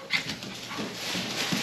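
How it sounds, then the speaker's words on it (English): A dog whimpers and pants softly indoors at a family Thanksgiving gathering, a faint, continuous whiny sound with no talk over it. "I don't know why he was barking at me like that."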